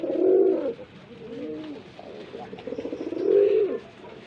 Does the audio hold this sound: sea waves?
no